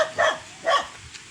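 Dogs in a rural province barking, two sharp close barks spaced about half a second apart, loud and clear with no talk.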